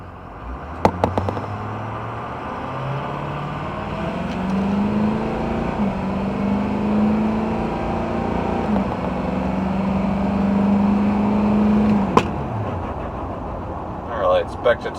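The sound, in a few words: Ford F250 diesel engine revving with turbo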